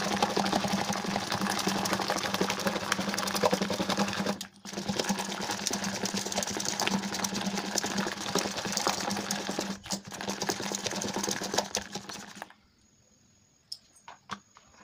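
An electric mixer whirs steadily as it blends yogurt for sweet lassi, a loud, continuous motor drone with two brief dropouts. It cuts off near the end, leaving quiet with a couple of small knocks.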